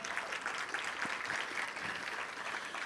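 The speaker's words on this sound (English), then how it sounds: "Let's give another round of applause for Congressman Hudson." A community gathering's audience applauds a congressman, a thick, even roar of many people clapping together, sustained and moderately distant, with no speech over it.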